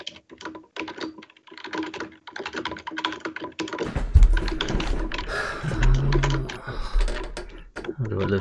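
Rapid clattering keystrokes on a computer keyboard during an online chess session, steady bursts of close clicking throughout, with someone talking over the typing in the second half.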